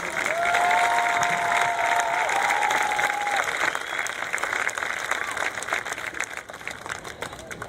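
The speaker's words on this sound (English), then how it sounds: "Let's give our senior football players another round of applause." A crowd at a high school senior night football game, Sheridan versus Sylvan Hills, applauds the senior players with sustained clapping and some cheering, strong at first and thinning out, while a whistle-like tone briefly sounds early on.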